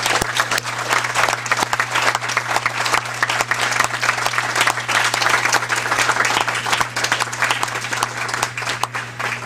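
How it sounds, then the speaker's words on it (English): Board meeting audience giving a sustained, dense round of applause for transit heroism award recipients, loud and even for the whole stretch over a steady low electrical hum. "how about a big round of applause for all of them?"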